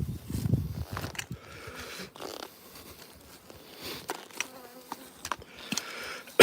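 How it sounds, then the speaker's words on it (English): Ligurian honey bees buzz around an open hive, a steady hum of many wings close by with occasional louder passes as individual bees fly near. "Let's get into the Ligurian bees right here."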